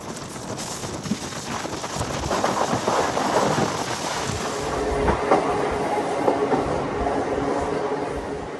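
The Visakhapatnam–Parvatipuram MEMU express train runs along the line, its wheels clattering in a steady clickety-clack with a broad rumble that swells and holds throughout.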